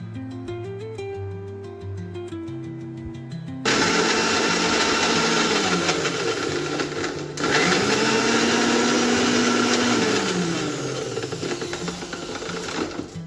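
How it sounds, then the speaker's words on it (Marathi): A kitchen mixer grinder pulverises roasted whole spices for a large home-cooked meat meal, starting with a quieter whir and then roaring loudly and continuously, with a brief pause midway before grinding resumes. "आणि मग इथं सगळा मसाला मी वाटून घेतला"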